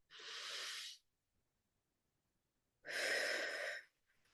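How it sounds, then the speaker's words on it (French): Two long, slow exhalations through the mouth during a breathing exercise, each a soft, steady rush of air lasting about a second, close and quiet with a pause of silence between them. "On expire bien par la bouche et on met l'intention que sur le souffle"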